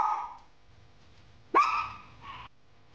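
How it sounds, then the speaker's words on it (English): A single sharp bark rings out after a quiet stretch, followed by a shorter, softer yelp; a small dog close by. "Intruder alert! Barking intensifies!"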